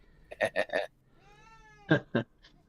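An older pet cat gives several short, chirpy meows in quick succession, then one drawn-out, wavering meow, and finishes with a couple more brief calls, all close and fairly quiet.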